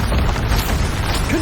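Bombarda spell blast in the video game Hogwarts Legacy, a dense loud booming rumble filling the whole brief moment without any break.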